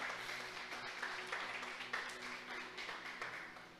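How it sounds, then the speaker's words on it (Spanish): Congregation in a church applauding, a steady wash of clapping held at a moderate, fairly distant level, with faint speech mixed underneath. "Alguien le puede dar un aplauso al Señor"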